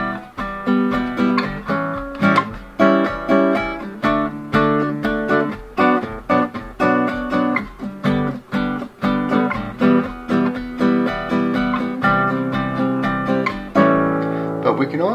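Acoustic guitar strums the chords of a song in a brisk, steady rhythm, full and close, with continuous dense chording and no pauses.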